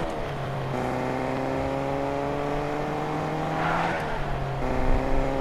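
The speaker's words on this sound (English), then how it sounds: "Just gonna drift around this corner." A car drifts around a corner in Fortnite, its engine holding steady harmonic tones that shift pitch as it slides, with a brief burst of tire noise partway through, up close and alone.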